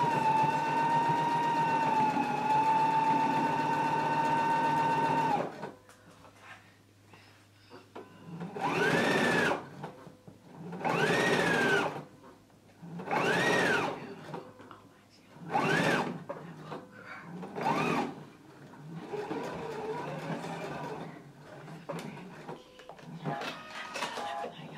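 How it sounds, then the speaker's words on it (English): A sewing machine top stitches a flap at a 1/4 inch seam allowance. A steady whir comes first, then a string of short, loud stitching bursts with brief gaps between them. "press the flap down and then top stitch right along this upper edge at a 1/4 of an inch seam"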